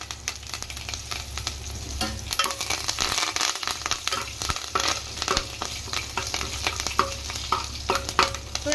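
Dried red chillies, mustard seeds, cumin, asafoetida and curry leaves sizzling in ghee for a tempering, a steady loud crackle with sharp pops and intermittent stirring scrapes, no speech.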